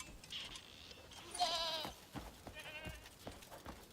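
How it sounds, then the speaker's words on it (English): Goats bleat in a quiet outdoor setting, with a few short wavering calls rising over faint background noise, one louder and longer bleat in the middle followed by softer ones. "I hear you, goats."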